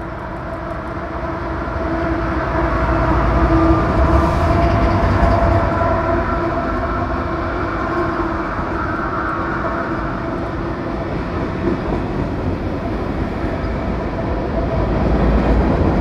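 A long CSX freight with lots of locomotive power, mostly dead in tow, rolls past an overpass with a steady loud rumble and rail clatter, building slightly and holding throughout, with no voices.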